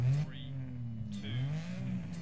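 A rally car engine in the video game Dirt Rally revs up and down in rising and falling sweeps, loud and close, with a brief higher-pitched whine between revs.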